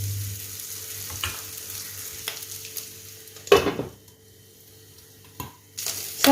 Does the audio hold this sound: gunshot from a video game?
no